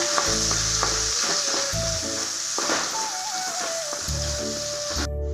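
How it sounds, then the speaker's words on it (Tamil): Onions sauté with curry leaves in a pan for leftover chapati noodles, crackling in a loud continuous sizzle broken by several clattering stirs, over a steady tonal hum in the background. "இந்த வெங்காயமும் நல்லா வதக்கலாங்க"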